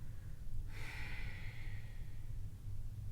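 A slow, breathy exhale during a Manipura chakra yoga practice, a soft airy rush that begins after a short quiet moment and fades gradually over a low background hum.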